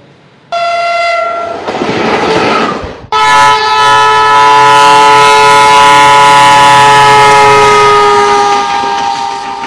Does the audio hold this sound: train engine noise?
yes